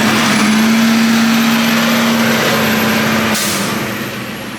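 A garbage truck rumbles close by with a steady heavy engine drone and a sustained tonal whine, followed by a brief hiss of air brakes before the noise gradually fades.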